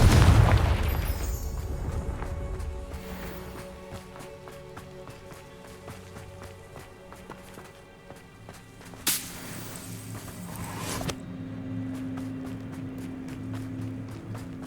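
A Confringo spell blast in the Hogwarts Legacy video game bursts loudly at the start with a deep boom, then fades into steady game music and ambience with a couple of sharper hits later.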